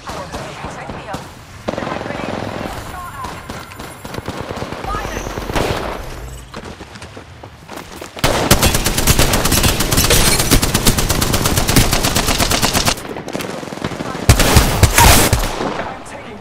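Sustained, loud automatic gunfire in the video game Apex Legends, with dense rapid bursts and short breaks, while voices speak over the shooting.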